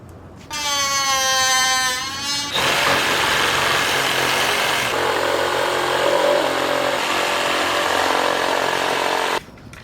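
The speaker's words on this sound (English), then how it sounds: "I'm gonna be cutting off, just following this line right here" A power tool revs up with a rising whine, then cuts steadily into a 6th-generation Camaro dashboard being fitted into a 2nd-generation Camaro, a loud, continuous, harsh grinding drone that stops abruptly at the end.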